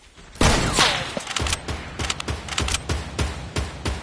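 Sniper rifle shots ring out in a video game, a string of sharp, loud cracks spaced roughly every half second against a busy combat backdrop, with no talking.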